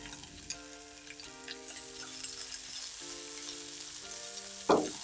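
Onions and green chillies sizzle gently in oil over a low flame for a Jaffna-style egg curry, a soft continuous frying hiss with a steady tonal hum underneath and a brief louder scrape near the end, no voices.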